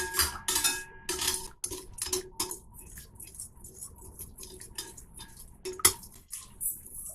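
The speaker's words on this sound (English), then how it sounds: "mix that together. And just stir it to dissolve" A spoon stirs sugar into a liquid mixture to dissolve it, making quick repeated clinks and scrapes against the bowl in uneven bursts, close and fairly bright, with no talking.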